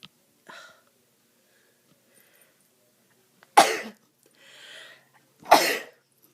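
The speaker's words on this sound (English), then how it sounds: "I would have to sneeze in the middle of my video" Two sharp sneezes burst out a couple of seconds apart, close and loud, with soft breathy sounds before and between them in an otherwise quiet room.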